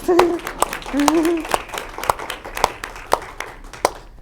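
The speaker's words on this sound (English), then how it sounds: "we'll give them a clap" Scattered clapping from a student senate meeting room after a bill passes, sharp individual claps spaced unevenly and thinning out toward the end, with brief speech heard near the start.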